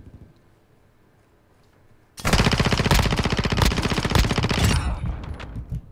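Rapid automatic gunfire from the video game Modern Warfare 2 erupts after two seconds of near-silence, a loud, dense burst of shots that runs for about two and a half seconds before tapering off.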